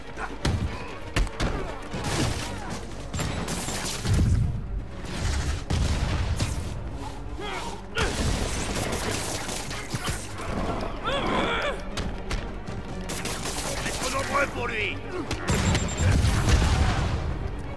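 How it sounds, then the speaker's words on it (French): Explosions and impacts erupt during a wave of combat in the Spider-Man video game, with repeated loud booms and thuds over dense, chaotic fighting noise and occasional speech. "Avec l'impact de, de l'explosion, ça m'a touché"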